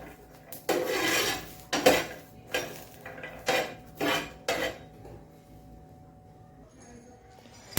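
Green chillies dry-roasting in a pan over a medium gas flame for tomato thecha, with a utensil scraping and clattering against the pan in about a dozen irregular, close bursts that fade to quiet near the end.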